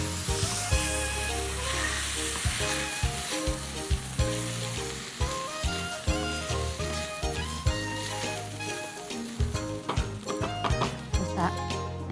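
Rice and glutinous rice sautéing in a pan with ginger, garlic and onion for bulalo lugaw, giving a steady sizzle under loud, rhythmic background music throughout.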